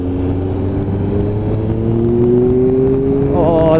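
A Triumph Daytona 955 motorcycle engine on a throttle lift-off test, a close, loud engine note whose pitch climbs steadily and then rises into a higher whir at the end.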